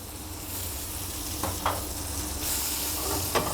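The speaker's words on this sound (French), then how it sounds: "nous mettons délicatement bien sûr les tronçons de pommes dans l'assiette, dans la poêle, pardon" Apple pieces fry gently in duck fat in a pan over low heat, giving a continuous close sizzle with a few faint scrapes as they are moved, no voices.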